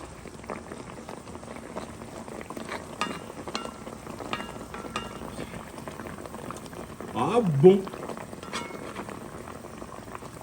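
Pork chine simmering and bubbling in a cooking pot, a steady low boil running throughout with a brief louder burst of stirring or splashing near the end, under occasional speech.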